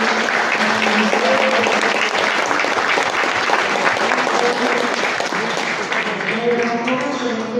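Sustained crowd applause honoring the founders of the Colonia Proletaria Rubén Jaramillo, dense continuous clapping from a large audience, with some voices underneath.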